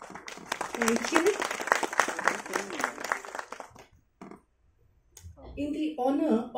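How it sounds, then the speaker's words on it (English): Dense clapping from an audience at a national museum ceremony for several seconds under a voice, then it fades out before a speaker resumes. "A round of applause, please."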